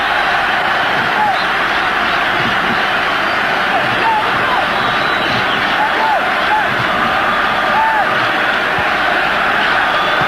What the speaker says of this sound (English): the crowd roars Zambia on